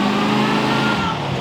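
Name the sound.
Batman Tumbler Batmobile engine revving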